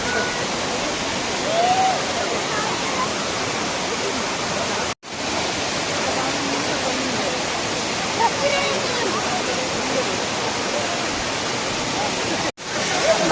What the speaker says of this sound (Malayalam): അടിപൊളിയല്ലേ ഇങ്ങനെ നമ്മുടെ വൈബ് വെള്ളച്ചാട്ടം